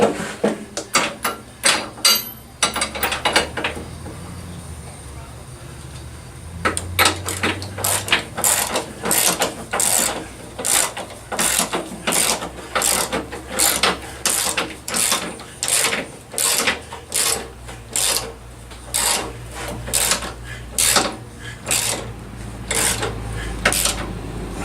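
Craftsman ratchet tightening trailer hitch bolts on a 2012 VW Golf TDI, with rapid pawl clicking in quick repeated strokes and brief pauses between bursts, close-up and crisp over a low background hum.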